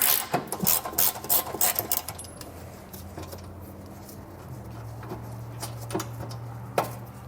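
Bolts on a 2020 Dodge Durango are broken loose with a ratchet or breaker bar, giving a burst of rapid clicking and metallic clatter early on, then a quieter low mechanical hum with occasional sharp knocks.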